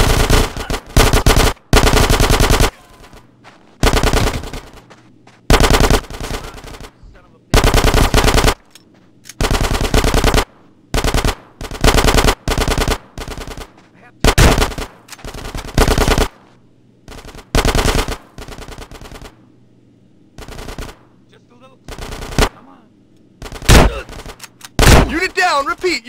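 Automatic machine gun fire in Grand Theft Auto: San Andreas rattles out in many loud, close bursts of varying length separated by short gaps, with voices shouting in between over the gunfire.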